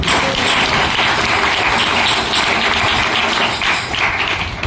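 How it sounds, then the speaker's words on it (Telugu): A crowd claps hands at a religious gathering, dense continuous applause that stays loud and full throughout, with no talk over it. "కొట్టాడు చప్పట్లు"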